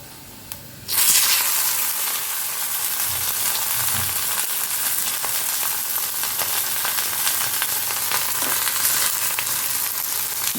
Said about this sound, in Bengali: ডিমটাও একসঙ্গে ভেজে নিচ্ছি।